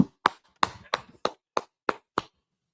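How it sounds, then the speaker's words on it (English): Sharp, separate claps ring out at a steady, unhurried pace at a brotherhood class gathering, about eight distinct hits in close succession with silence between them, more like a small group clapping together than a full crowd. "y'all clap it up"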